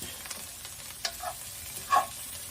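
Onions frying in a pan, a soft steady sizzle with a few brief scraping stirs, close and fairly quiet, no voices.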